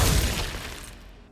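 Glacius ice spell shattering in the video game Hogwarts Legacy, a single bright crackling burst that decays quickly over about a second, heard alone.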